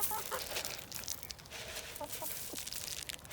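Chickens cluck softly at close range, with scattered short clucks and calls over a low background, no voices present.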